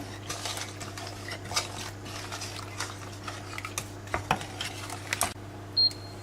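A toffee cake mixture of flour and other ingredients being stirred in a pot before the heat goes on, giving soft, irregular scraping and clinking of a utensil against the pot, fairly quiet and close, with a brief beep near the end.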